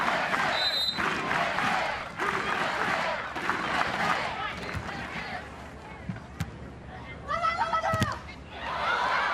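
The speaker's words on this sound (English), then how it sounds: "Crowd now getting right behind the #1 seeds," Crowd noise at a women's gold-medal beach volleyball match at the Cincinnati Open rallies behind the home team. It rises and falls in waves under steady commentary, with a few sharp shouts standing out near the end.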